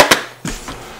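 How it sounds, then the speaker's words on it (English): A staple gun fires into velvet fabric on a piano bench frame, giving two sharp, close clacks about a third of a second apart, each followed by a short ring-off. "Staple that in."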